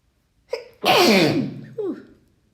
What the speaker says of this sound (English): I must sneeze again, or I must suppress